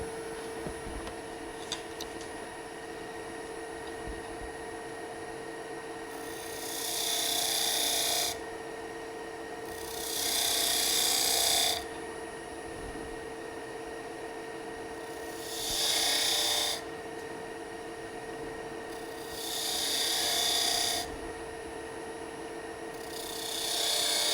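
Rotary point tool spinning at 1500 RPM and texturing Bradford pear wood, giving five rasping grinding passes of a few seconds each over a steady motor hum, with no speech.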